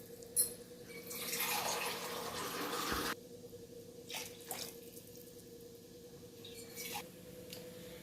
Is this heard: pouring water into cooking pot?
yes